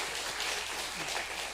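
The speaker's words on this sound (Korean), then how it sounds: "우리 큰 박수 다시 한번 환영의 박수" Church congregation at a Sunday worship service clapping in welcome, a dense, even wash of applause heard from a distance throughout.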